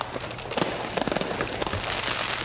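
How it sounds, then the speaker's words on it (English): A fireworks sound effect crackles and pops in a continuous, dense burst of sharp bangs and sizzling crackle, loud and unbroken throughout. "I dropped in the fireworks clip and played the beginning of the video for timing"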